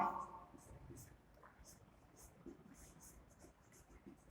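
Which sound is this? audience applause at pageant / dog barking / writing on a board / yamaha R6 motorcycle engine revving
writing on a board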